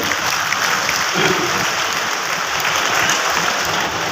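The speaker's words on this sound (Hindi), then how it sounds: "तालियां बजा करके स्वागत करिए" A large crowd at an outdoor public event with the chief minister applauds to welcome a guest, steady, dense clapping sustained throughout at moderate distance.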